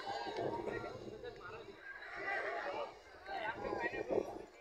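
Horses at a tent pegging on horseback event, a whinny and hoof movement heard among crowd chatter and voices at a moderate distance.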